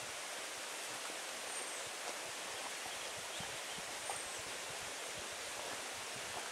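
A wilderness creek flows in a constant, close, hissing wash of water that stays even from start to finish.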